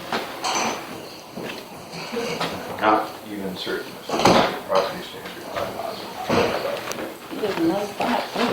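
A kitchen cabinet drawer and doors being handled during a bylaw inspection, with repeated wooden clunks, slides and knocks scattered through the stretch, close and fairly loud.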